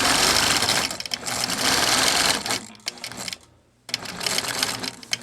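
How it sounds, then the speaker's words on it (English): A sewing machine stitches a small quilt block with close, rapid mechanical whirring in several bursts, slowing and pausing briefly before starting again. "I stitched out a little block."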